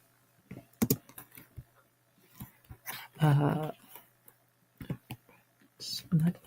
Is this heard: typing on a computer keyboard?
yes